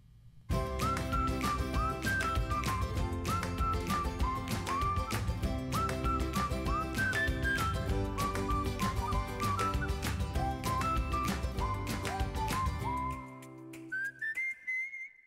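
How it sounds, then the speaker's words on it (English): A person whistles the Game of Thrones theme song, a loud, continuous, melodic whistle with clear held notes that runs for about thirteen seconds, then ends with a few short broken phrases. "The middle part, the whistler really starts jamming on the theme song."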